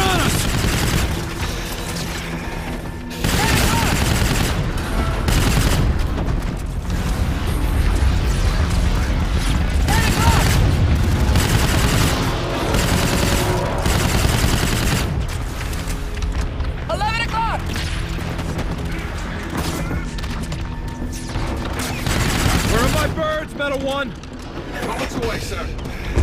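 Battle gunfire from the video game Infinite Warfare, with bursts of automatic weapons, booming impacts and mechanical clatter layered over a loud, continuous game soundscape.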